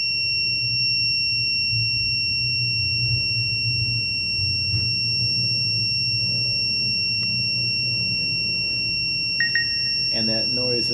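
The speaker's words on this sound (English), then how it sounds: "that noise is really annoying, but it's necessary for this firmware to go through." An Extreme Bull K6 gives off steady alarm-like tones during a firmware upgrade, a constant high electronic whine held throughout, with a quieter low hum beneath and a brief cluster of extra beeps near the end.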